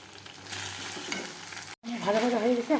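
Chicken pasta sauce with tomato sauce and honey sizzles and fries in a pan while being stirred, a steady scraping hiss that pauses briefly before clear voices talk over it.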